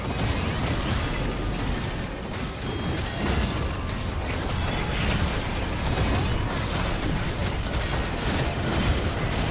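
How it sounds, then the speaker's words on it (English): A League of Legends turret collapsing in a ranked support match, heard as a loud, dense crash and crumbling burst that fills the whole stretch alongside game effects, with no talk. "Blue team's turret has been destroyed."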